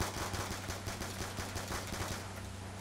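Rapid, evenly spaced pistol shots from a Five-seven in Black Ops 2 Zombies, fired in a quick steady string at moderate volume with no talk over them.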